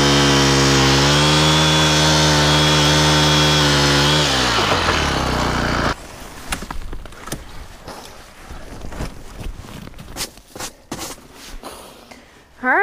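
A gas-powered ice auger drills through thin ice on a small farm pond, running as a loud steady engine drone that winds down after about six seconds, followed by irregular clunks and scraping.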